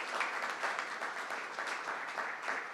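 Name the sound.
applause for the governor and congresswoman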